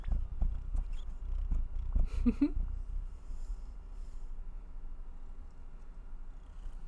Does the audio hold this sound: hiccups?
no